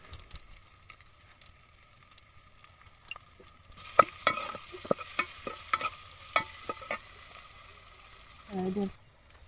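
Onions and green chilies fry in a pan at a picnic cook-up, starting as a quiet background and then bursting into loud, steady sizzling with repeated sharp stirring scrapes and clacks, ending in a brief rattle before cutting out.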